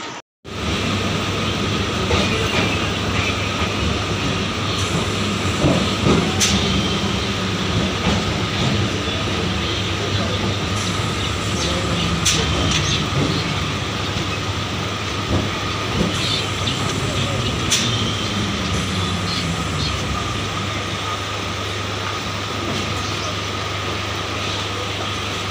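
A Sealdah–Namkhana local train runs steadily, its rumble and rail noise filling the whole stretch at a constant, loud level with no break.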